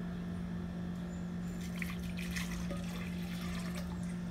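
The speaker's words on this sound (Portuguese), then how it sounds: "E agora vamos colocar a água levemente adoçada aqui dentro." Lightly sweetened water poured into a container while making strawberry treats, a steady close trickle of liquid filling it with no talk and a constant hum underneath.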